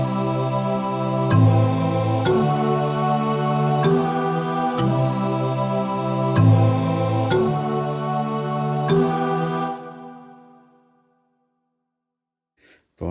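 A Choir of Light synth pad plays the same chords as a marimba layer in an Afroswing or UK rap beat. Sustained chords change at an even rhythm for about ten seconds, then fade into silence.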